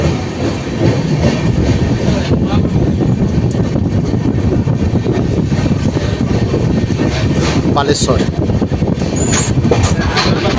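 The 12821 Dhauli Express from Kolkata to Puri runs past Balasore station, heard from on board as a loud, continuous roar of wheels and rushing air with a couple of brief high squeals near the end.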